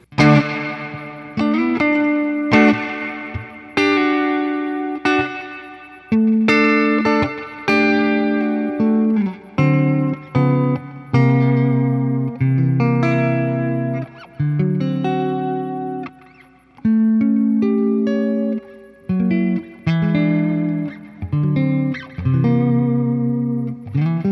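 An electric guitar rings out in a run of picked notes and chords through a CopperSound Daedalus pedal, drenched in lush reverb that lets each phrase trail and wash into the next.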